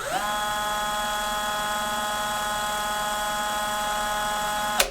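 A DeWalt cordless impact drill runs at low speed in drill-driving mode, giving a steady, even motor whine that holds for nearly five seconds before cutting off sharply.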